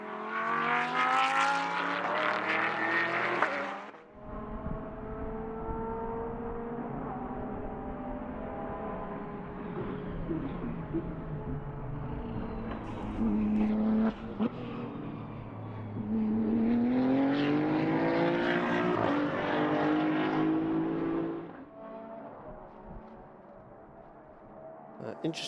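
GT race cars, including a Lamborghini, Chevrolet, Porsche and Ferrari, roar around the Paul Ricard circuit with steady engine drone and rising and falling revs as they pass, while a commentator talks over it.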